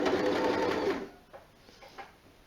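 A sewing machine stitching the hem of a jersey top runs in a loud, fast, close whirr for about a second, then stops, leaving a few soft clicks and rustles of handling.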